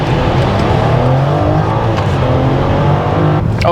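A BMW X5 xDrive40i in sport mode floored from a traffic light, its engine roaring loudly and steadily under hard acceleration from inside the cabin.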